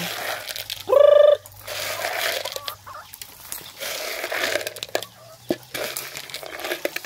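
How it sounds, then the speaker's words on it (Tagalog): Chickens and ducks being fed scratch and peck amid rustling and light pattering, with a brief loud squawk near the start and scattered soft clucks close by. "papakainin natin yung mga manok"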